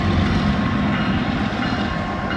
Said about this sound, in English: No, not a grain train. Might be an ethanol train.